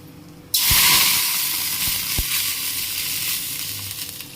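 Water poured into hot ghee with fried raisins while making kesari bursts into a sudden loud sizzle, then settles into a steady hissing fry with a faint clink or two from the pan.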